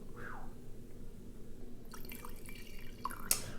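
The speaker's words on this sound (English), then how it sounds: "We'll go ahead and give it a pour." Canadian whisky, a 25-year Orphan Barrel bottling, pours from the bottle into a glass in a quiet room, giving a soft, close trickle and splash that ends in a brief drip.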